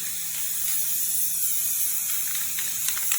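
Continuous loud hiss of an aerosol spray can spraying paint onto a metal wood stove cook top, steady and close, with faint clicking mechanical sounds near the end.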